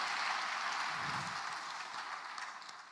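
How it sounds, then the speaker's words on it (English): A church congregation claps together for the Lord after a sermon, a steady broadband patter of many hands sustained throughout and fading slightly toward the end. "let's give a mighty hand clap to the Lord for his"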